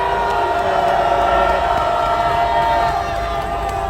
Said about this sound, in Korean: 여러분 큰 함성과 박수로